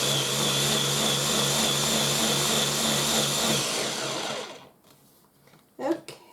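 A small Ninja blender over 15 years old whirs steadily at a fairly quiet, high-pitched hum, then switches off, leaving near silence and a brief clatter.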